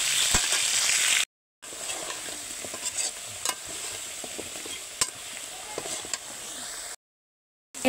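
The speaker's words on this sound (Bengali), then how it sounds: "পেঁয়াজটা ভাজা হতে হতে এদিকে আলুটাও ভেজে নিচ্ছে" Onion and potato fry in a pan, a light continuous sizzle with scattered clinks and scrapes of stirring, cut off by two brief silent gaps.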